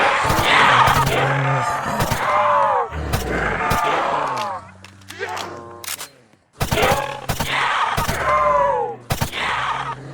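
The MCX-SPEAR rifle in the Roblox game Project Lazarus fires in sharp, loud cracks. The shots come in quick bursts over game music and groaning zombie sounds.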